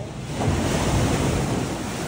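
Ocean waves surge into a sea cave at Heisler Park in Laguna Beach, a steady, loud wash of rushing surf with wind buffeting the microphone throughout.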